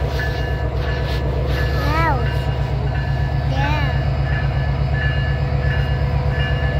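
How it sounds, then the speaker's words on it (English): A Canadian Pacific Christmas train rumbles steadily nearby with a constant low drone and occasional squealing tones, continuous and loud throughout. "Train is running!"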